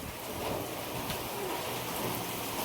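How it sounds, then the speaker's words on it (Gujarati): Heavy rain pours down in Vadnagar, a steady, dense hiss of drops hitting surfaces that stays even and unbroken throughout, fairly soft in level with no voices over it. "વડનગરમાં માહોલ જોરદાર વરસાદ પડ્યો"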